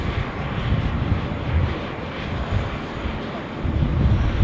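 Regional plane taking off from Sydney Airport runway 16 right in a strong southerly wind, a broad, steady engine roar heard from a distance, mixed with wind buffeting on the microphone.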